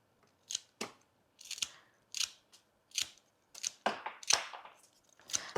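Flower stems for a fall bridal bouquet being snipped shorter with scissors, a series of about a dozen crisp, separate cuts in an uneven rhythm, close and clear in a quiet room.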